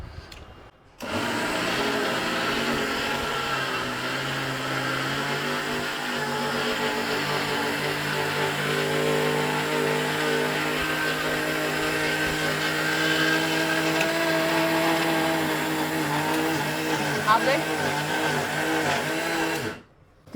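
A kitchen mixer grinder whirs steadily for about nineteen seconds, grinding sesame seeds with jaggery, its motor droning loud and continuous from a sudden start to an abrupt stop.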